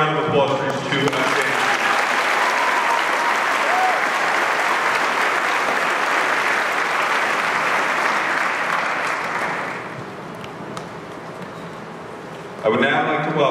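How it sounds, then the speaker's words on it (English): Sustained, dense audience applause at an 8th grade promotion ceremony, loud and even for about ten seconds before thinning out, then a voice briefly rises at the end. "How about another round of applause for these two guys?"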